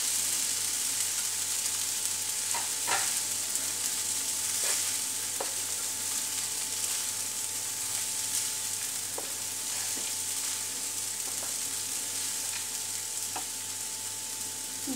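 Sabudana khichdi sizzles steadily in a pan while being stirred, with a constant frying hiss broken by scattered light spoon taps against the metal.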